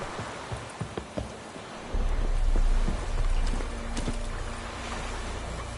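Quick, rhythmic hoof clops from Roach galloping in The Witcher 3, first crisp and close, then partly buried under a low rumble and rain-like hiss from the game's outdoor scene.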